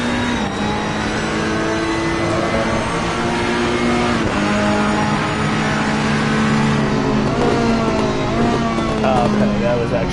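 Race car engine in Assetto Corsa Competizione, a loud, close, continuous engine drone that holds a steady pitch, drops and rises again through gear changes.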